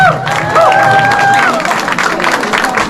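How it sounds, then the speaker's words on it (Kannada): Audience applause and cheering for the Pili Nalike tiger dance team at Dubai Expo, a loud continuous crowd wash with whistles or shouts rising over it. "ದಯಮಾಡಿ ಮತ್ತೊಮ್ಮೆ ಚಪ್ಪಾಳೆ ತಟ್ಟಬೇಕು ಅಂತ ಕೇಳ್ಕೊಳ್ತೀನಿ"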